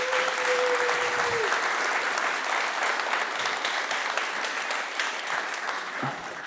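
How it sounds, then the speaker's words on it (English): An audience at a tech conference talk on Kubernetes load testing gives a sustained round of applause, dense even clapping that slowly eases off over several seconds. "let's have a round of applause for Karim."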